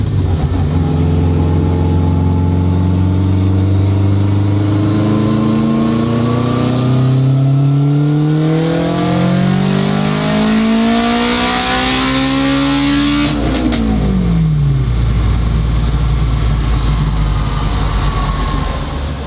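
Turbocharged AWD Honda RSX making about 500 horsepower, pulling hard through fast sequential gear changes. The engine note climbs in rising sweeps, then drops sharply at each shift, loud and close throughout with no talking.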